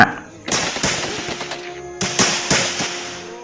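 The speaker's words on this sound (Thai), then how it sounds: "ก็มีเสียงปืนดังขึ้นหลายชุด จากพลลาดตะเวนหน้า" Two close, loud bursts of rapid gunfire, each a quick string of sharp cracks separated by a brief pause, with ringing echoes.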